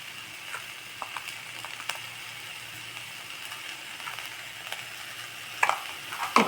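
Agathi (sesbania) pods fry in a pan and are stirred, giving a soft, steady sizzle broken by light spatula scrapes and taps, with a few sharper clinks near the end.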